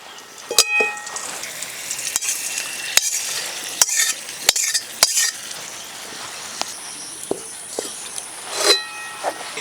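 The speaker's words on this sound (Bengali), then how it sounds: "গোটা ধনে, গোটা জিরে, কাঁচা লঙ্কা, একটু নাড়াচাড়া করে ভেজে নিলাম।" Whole coriander, whole cumin and green chili frying in a little mustard oil in a kadai, a soft steady sizzle broken by sharp clinks and scrapes of a utensil stirring against the pan.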